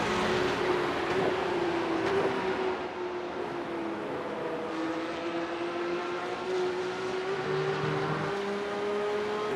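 Race car engines in the iRacing eNASCAR Coca-Cola Series video game at Homestead-Miami Speedway, holding a steady, loud, high-pitched whine that slowly rises and falls in pitch as the cars overtake. No voices.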